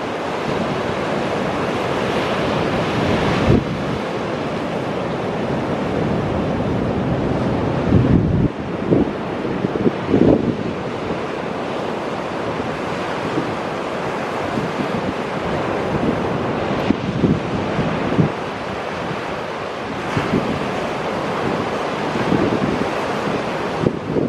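Ocean surf crashing continuously alongside heavy wind buffeting the microphone on a breezy coastline, loud and steady throughout with surges of breaking waves and no voices.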